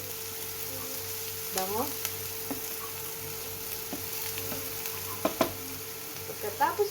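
Onions sauté in a hot pan with a steady, soft sizzle, broken by a few sharp scrapes and clinks of a utensil stirring them, and a brief word spoken near the end.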